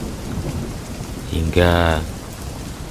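A heavy rainstorm hisses steadily as a loud, close thunderclap booms and rolls through it. A brief voice speaks over the storm.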